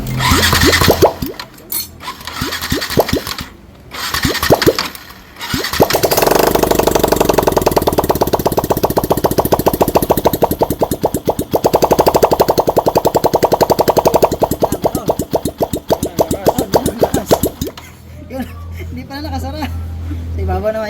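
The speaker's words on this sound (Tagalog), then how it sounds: "Medyo maingay nga lang to kasi tambutso niya wala pa" A loud, raw Yamaha Sniper 150 motorcycle engine runs with no exhaust pipe fitted, rattling and roaring steadily for several seconds, with voices talking briefly before and after.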